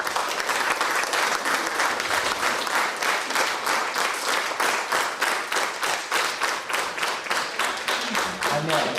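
An audience applauds steadily for several seconds, dense and fairly loud, with the clapping settling into a rhythmic beat, and a voice emerges right at the end.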